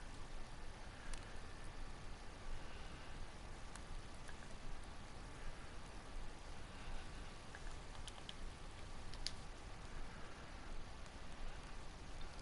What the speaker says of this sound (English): Sounds like it's raining outside as well.